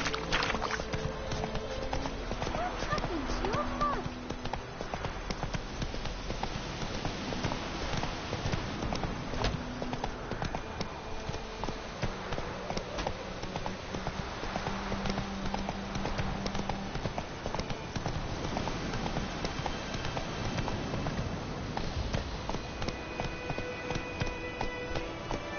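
Hooves of Roach, the horse in The Witcher 3: Wild Hunt, clip-clopping in a steady, continuous rhythm under an ongoing game soundscape with faint background tones, no pause throughout.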